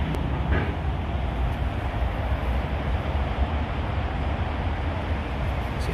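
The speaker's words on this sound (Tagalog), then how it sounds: "So, operation na talaga yung train dito ngayon." A train passes on a rail line as a continuous low rumble with rattling wagon noise. It is moderately distant, steady, and has no talking.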